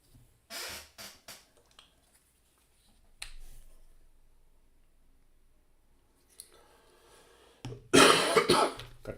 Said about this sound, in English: Got this stupid cough that I just can't seem to shake.